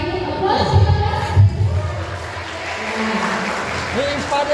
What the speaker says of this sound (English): Applause for us.